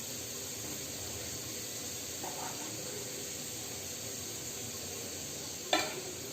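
Chicken donuts, also called chicken rings, fry in hot oil with a steady, soft, close sizzle and hiss that carries through, and one brief clatter near the end. No one speaks.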